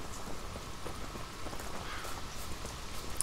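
Horse hooves galloping in The Witcher 3 video game, a steady, continuous clip-clop rhythm at moderate volume with no voices over it.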